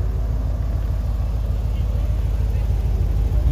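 A Jeep idles steadily at a nighttime car meet, giving a deep, rumbling low-end drone at close range that holds constant throughout, with no other sounds standing out.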